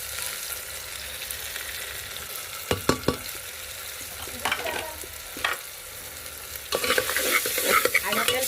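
Garlic and ground spices sauté in hot oil, a low steady sizzle broken by sharp spoon clinks and stirring scrapes, nearby and fairly quiet, with no talk.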